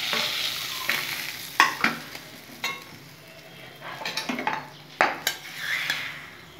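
Small turmeric-coated fish frying in a pan while being turned, a soft steady sizzle broken by sharp metal utensil clinks and scrapes against the pan at irregular intervals.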